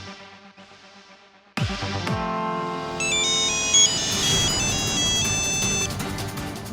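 A phone rings with an incoming video call, a bright melodic ringtone that bursts in loudly after a quiet moment and keeps playing, close and alone.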